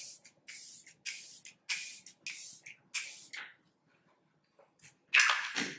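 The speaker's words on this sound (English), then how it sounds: "I'm going to grab the Glow Recipe Watermelon Glow Ultra Fine Mist just to refresh and hydrate my skin" A Glow Recipe Watermelon Glow Ultra Fine Mist facial spray gives six quick bursts in a steady rhythm, each a short, loud, close hiss. A pause follows, then a final longer spray.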